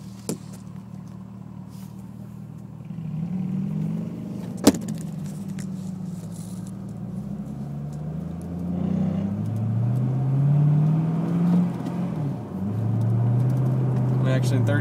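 A Corvette C6 engine drives gently in first gear, a low steady rumble that swells a little as the car moves, with a voice speaking over it and a brief knock partway through.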